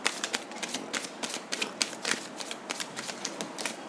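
Tarot cards shuffled by hand, a quick irregular series of crisp riffling flutters and snaps, close and fairly quiet, with no voice over them.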